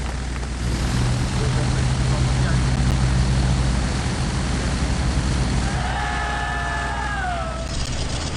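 A Pander S4 propeller racer takes off at the start of an air race, giving a loud, continuous engine and propeller roar over a wash of crowd noise while someone speaks over it.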